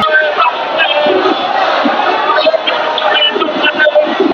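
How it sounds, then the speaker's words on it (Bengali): Thousands of Jamaat-e-Islami party activists chanting slogans at Paltan crossing during a street march in Dhaka; a dense, loud, continuous roar of many voices shouting together in unison, filling the whole stretch. "হাজার হাজার নেতা কর্মীদের স্লোগানে মুখরিত হয়ে উঠেছে এই মুহূর্তে পল্টন মোড়"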